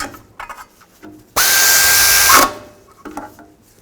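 A power drill or impact driver runs one sustained burst of about a second, tightening bolts on a transmission cover of a 2000-2006 Chevy Tahoe, loud and close amid soft workshop handling noises.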